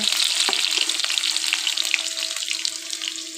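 Potato pieces frying in oil on an electric heater, a loud steady sizzle with occasional soft stirring scrapes, close and continuous throughout.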